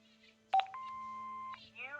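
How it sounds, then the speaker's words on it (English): An answering machine in the Broken Sword: The Serpent's Curse adventure game gives a sharp click, then a steady electronic beep lasting under a second, with a hum underneath and speech starting right after. "Hobbs's answer phone, and he's got messages."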